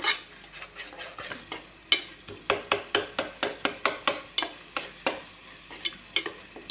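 Tomatoes with added water are stirred in a pan for boiled egg gravy: a spatula scrapes in a quick, regular rhythm, about two strokes a second, over a faint sizzle.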